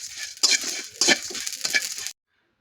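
Cumin, mace, shahi jeera, coriander, garam masala and a little dried chili fry in hot oil while being stirred. Three bursts of close sizzling and scraping are heard before the sound cuts off abruptly.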